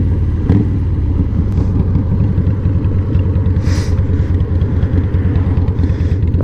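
A 2003 Harley-Davidson Fat Boy with Stage II tuning rumbles loud and close, its deep engine note steady and continuous with no talk over it.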